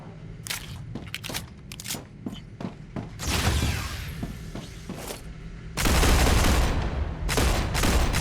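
A gun in the game StarRupture fires in quick bursts of sharp, punchy shots, some rapid strings and heavier booming stretches, loud and close with recoil-heavy impacts.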